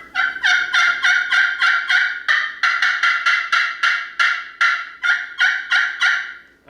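Custom turkey game call played close and loud, a rapid series of sharp yelping clucks in quick rhythmic bursts, roughly twenty notes grouped into runs with short pauses, no voices.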